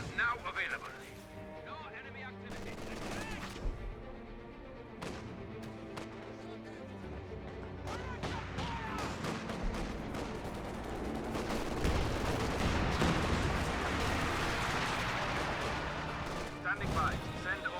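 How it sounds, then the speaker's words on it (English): Panzer IV tank cannon fire and battle effects in the video game Company of Heroes 2, scattered shots and impacts within a dense wash of combat noise, under continuous talk. "You have this Panzer IV now trying to force fire through the ground"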